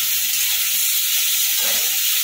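Onions frying in hot oil and being stirred for a Bengali kanda potol (parwal) dish, a loud steady sizzle and hiss with a brief scrape of stirring near the end, no talk.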